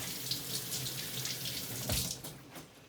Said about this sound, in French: Alors on le passe légèrement sous l'eau.